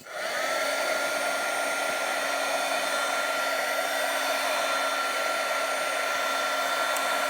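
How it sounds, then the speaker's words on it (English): A heat gun blows a steady, loud, unbroken whirring hiss while melting embossing enamel on wood, with a high electric whine running throughout and no pauses. "we move, kind of keep continually moving our heat gun so we don't just overheat one spot"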